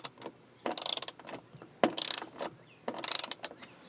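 A ratchet wrench with a socket loosens a 10 mm bolt on the rear door of a 2006-2012 Nissan Altima, giving three bursts of rapid, close ratcheting clicks separated by brief pauses.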